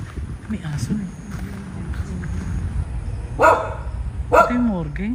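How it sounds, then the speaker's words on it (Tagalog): A dog barks twice, sharp and a little distant, amid steady background talk near an abandoned plant beside a highway. "May aso eh."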